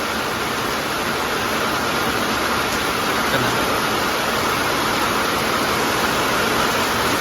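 Heavy monsoon rain roars on a moving car in a dense, unbroken wash of noise, steady and loud throughout with no voices.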